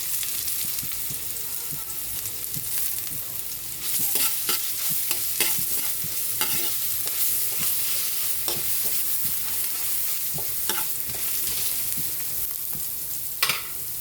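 Ginger and garlic sautéing in a pan for a Filipino home-cooked dish, a steady sizzle with repeated scraping stirs of a utensil, close and fairly loud throughout with no talking.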